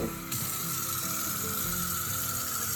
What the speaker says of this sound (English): You don't pour it directly over the curd piece. You pour it around the bowl.